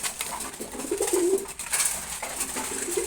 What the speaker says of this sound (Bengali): রেড চেকার কবুতর, এটা মাদি কবুতর, আর নর কবুতর তো এখানে আছে